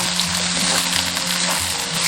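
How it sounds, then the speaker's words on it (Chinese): Cauliflower, king oyster mushroom and lotus root stir-fry in hot shrimp oil in a wok, sizzling loudly and continuously at close range with a rhythmic scraping as they are tossed. "这几种食材用这种虾油炒一下的话"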